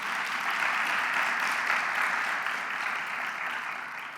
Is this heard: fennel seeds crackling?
no